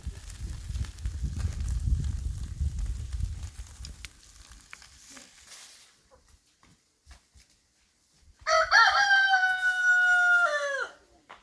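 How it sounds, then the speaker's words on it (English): A rooster crows once on an organic farm, a loud nearby call heard after a stretch of low rumbling background and a quiet pause. "There's quite a lot of roosters."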